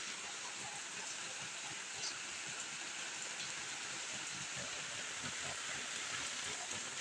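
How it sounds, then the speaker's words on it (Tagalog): Steady, dense rain pours down in a constant hiss, with spattering drops on a surface and no voices. "Lalo na pong lumalakas ang ulan"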